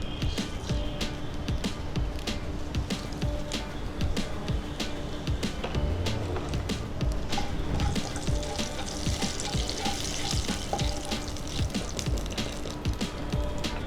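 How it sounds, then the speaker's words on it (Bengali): Nigella seeds tempering in hot oil left from lightly frying eggplant, a fine continuous sizzle with scattered crackles and pops, fairly close and steady with no one talking. "এই তেলেই আমি কালো জিরে ফোড়ন দেব।"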